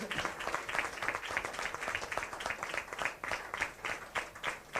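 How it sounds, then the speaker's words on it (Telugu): A church congregation claps loudly together in sustained, dense applause at a healing ministry worship service, the rapid crowd clapping steady and continuous throughout. "దయచేసి అందరం కూడా గట్టిగా చప్పట్లు కొట్టి దేవుని మహిమపరిచి"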